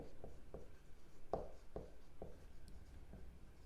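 A pen scratches out an answer to a class 8 statistics maths problem, a steady series of short tapping strokes on paper, close and quiet with no talking.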